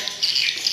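Many swiftlets chirp inside a swiftlet house in Palopo, South Sulawesi, a dense, steady chorus of high, shrill twittering calls filling the enclosed space.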